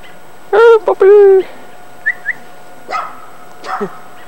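A dog gives a few sharp, close barks and yelps in quick succession, followed by softer scattered whimpers and short sounds, with brief voices in between.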